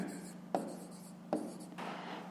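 Pen writing out a math exercise on paper, a soft continuous scratchy rustle broken by two sharp taps as the pen strikes the page, close and quiet.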